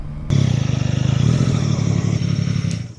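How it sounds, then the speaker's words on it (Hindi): A motorcycle engine revs hard and steadily nearby, a loud throbbing pulse with a rapid rhythmic beat that holds for a few seconds before easing off, with no talk over it. "मतलब ऐसे रेविंग करने में किसी भी गियर पे ऐसे कोई ऐसा लग नहीं रहा कि बाइक स्टॉल कर"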